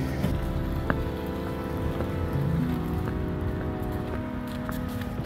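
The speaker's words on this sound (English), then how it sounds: "The rain's just kind of a drizzle now, hardly anything, more of a mist." Light drizzle falling steadily on surfaces outdoors in La Crosse near a train station, a soft continuous patter over low rumbling background hum, with scattered faint drips and no talking.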